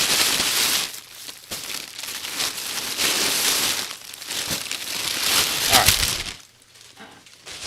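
Close, continuous crinkling and rustling of bags and packaging as backpacks are packed, in uneven bursts that swell and fade, dropping nearly quiet near the end.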